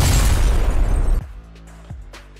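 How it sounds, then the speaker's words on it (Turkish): In PUBG, a grenade thrown inside a house bounces off a closed window and explodes on a player, a loud close blast with a rumbling tail that cuts off abruptly, followed by a couple of faint thuds. "Evin içinde attığı el bombası kapalı pencereden sekip adamın üzerinde patlamış."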